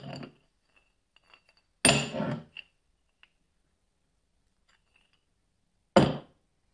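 Cast aluminum ingots clink together as they are handled for weighing, a few sharp metallic knocks and clatters separated by long quiet gaps, close by with no talk.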